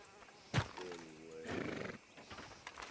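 A horse in Red Dead Redemption 2 lets out a clear, fairly close whinny with a wavering pitch that trails off, followed by faint hoof shuffles and soft background ambience; no speech.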